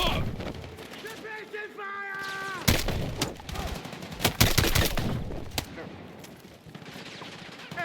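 Battlefield 6 combat gunfire, with sharp bursts of shots and automatic fire cracking out over several seconds, mixed with a tonal electronic sound near the start and voices shouting.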